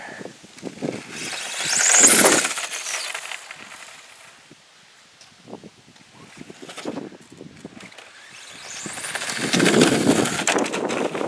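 Pro mod car engine running in a fast speed run, swelling to a loud roaring whoosh twice with quieter rumbling between, wind-buffeted and close, no talking.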